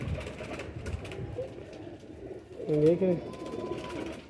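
Teddy or Sialkoti breed pigeons give a soft cooing call in the middle, close by and under someone talking.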